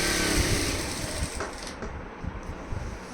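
A sewing machine stitches the falls onto a saree, its motor whirring and needle chattering in a dense, continuous run close by, easing slightly toward the end, with no talking.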